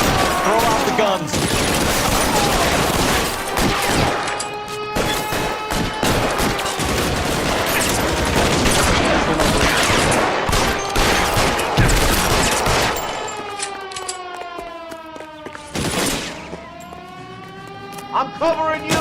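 Rapid, dense gunfire rattles in a shootout in the video game L.A. Noire, loud and continuous for most of the stretch before thinning into scattered shots among wavering siren-like tones, with voices speaking over it.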